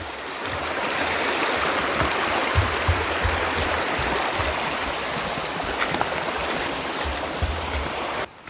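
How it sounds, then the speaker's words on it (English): A small creek flows near an off-grid cabin in Montana, a steady close babble of rushing water with small splashes throughout. "I'm hearing a creek down here"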